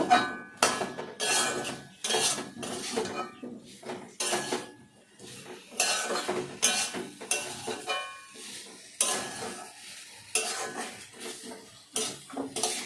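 A spoon scrapes and knocks around a pan in rhythmic bursts while a soybean korma with fried potatoes sizzles softly underneath.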